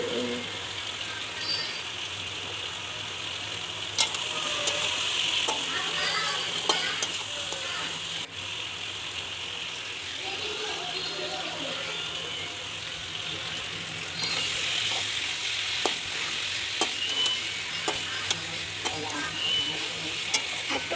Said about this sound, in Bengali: এবার আমরা ভালো করে কষাচ্ছি মাংসটা